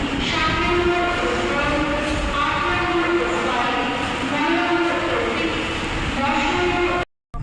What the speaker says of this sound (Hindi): देखिए गीतांजलि डिपार्ट हो गई सांतरागाछी से, 2 मिनट ही रुकी।